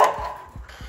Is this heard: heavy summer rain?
no